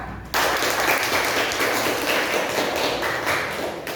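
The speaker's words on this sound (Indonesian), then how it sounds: "Berikan aplaus anak-anak." A classroom of children bursts into applause after a presentation, a dense, steady patter of many hands clapping together that starts abruptly and carries on evenly for several seconds.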